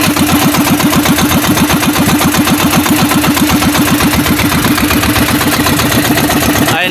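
Fishing boat's engine putters steadily and loudly in a rapid regular chug as the boat heads out to sea, running unbroken throughout with no talk over it.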